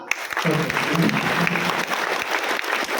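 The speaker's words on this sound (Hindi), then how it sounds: "एक बार जोरदार ताली।" Audience at a health-products meeting in a hall claps loudly and steadily throughout, a thick wash of hand claps with a voice briefly speaking over it.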